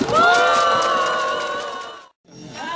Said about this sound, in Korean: 여러분들 힘찬 박수와 함성으로 시작하겠습니다